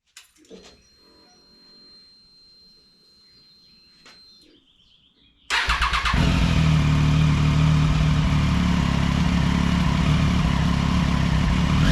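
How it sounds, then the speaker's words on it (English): A warmed-up Triumph Daytona 675 three-cylinder motorcycle starts after a few seconds of quiet with faint tones, then settles into a loud, steady, close idle. "Seems that it's kind of warmed up from idling, waiting for the oil to cycle"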